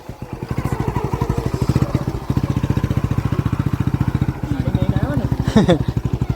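A motorcycle engine runs close by in a fast, even putter, steady and loud for the whole stretch, with a faint voice near the end.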